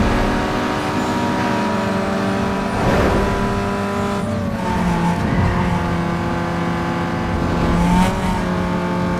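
Tuner car engine racing in Need for Speed Underground 2, a loud sustained harmonic drone with the pitch climbing and dropping through gear changes, steady and close with no talk.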